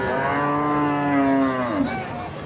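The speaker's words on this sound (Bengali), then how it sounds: "এখানে একটা বড় গাভি ঢোকাইছে" A single large cow at a cattle market gives a long, loud, close moo that slides down in pitch before trailing off.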